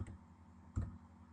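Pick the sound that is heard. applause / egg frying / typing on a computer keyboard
typing on a computer keyboard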